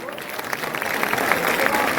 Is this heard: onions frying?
no